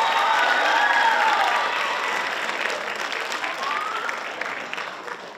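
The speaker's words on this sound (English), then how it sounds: "how about a round of applause for our MC counselor, Fred Hogan?" Audience applause and cheering at a city hall citation ceremony, loud sustained clapping with a few whoops and whistles rising above it, gradually tapering off.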